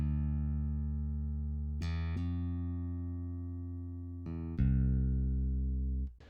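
Bass line in a home-produced album track moving through passing notes beyond the root, a few long, deep sustained notes changing at slow intervals, clear and alone.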